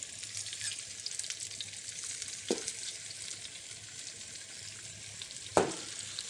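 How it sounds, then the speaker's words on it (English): A butter and flour roux cooks toward brown in a pan, with a faint steady sizzle and two sharp stirring knocks spaced a few seconds apart. "Stirring frequently to produce a brown roux."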